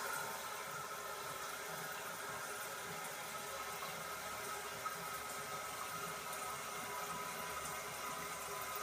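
A toilet hisses and rushes steadily as it flushes and the tank refills, a continuous watery noise at moderate level with no break.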